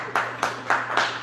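Audience at an open mic comedy show clapping in steady rhythmic bursts, a small crowd applauding close and loud with no talk over it.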